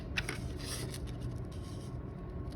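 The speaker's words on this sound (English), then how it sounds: "We're just gonna snip" Scissors snipping paper to cut a small square for a color wheel, heard as a couple of quick, faint cuts early on over a soft, steady background hiss.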